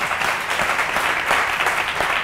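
An audience at a Côte d'Ivoire youth quiz show quarter-final applauds, dense steady clapping from a crowd held at even volume throughout.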